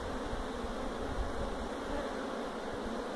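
Honeybees buzz in an opened hive after oxalic acid vapor treatment for varroa, a close, steady, continuous hum with no talking.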